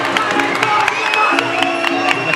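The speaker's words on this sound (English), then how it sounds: "And the crowd are up for that." An excited crowd roars and shouts at a Muay Thai fight, a dense wall of cheering with sharp whoops and a few rhythmic bangs. Commentary runs underneath.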